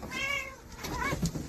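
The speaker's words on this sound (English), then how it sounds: "Shoko, would you leave the cat alone?" A cat meows twice in quick succession, close and clear, with a short rising-falling cry followed by a second softer call, alone without talk.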